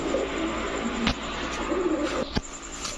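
Gorra pigeons, a red-eyed male and his hen, coo in soft, low repeated notes close by, with a couple of sharp knocks or taps breaking in.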